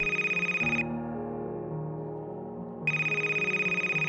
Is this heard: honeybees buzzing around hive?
no